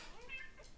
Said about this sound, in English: if you hear a cat in the background, our cat just walked into the room